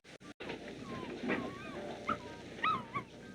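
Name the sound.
dog whimpering and yipping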